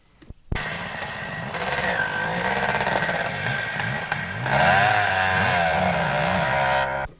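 Kawasaki sidecar motorcycle engine racing through an enduro course, a loud, steady revving drone with rising and falling pitch that surges louder midway, alone without talk.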